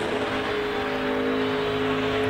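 A NASCAR Nationwide race car on a qualifying lap at full throttle, its engine holding a steady, loud, high-pitched drone throughout with no speech.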